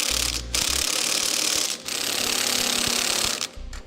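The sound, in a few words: ratchet tightening hitch bolts on 1995 Jeep Cherokee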